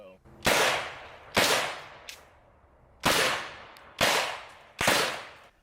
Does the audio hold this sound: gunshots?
yes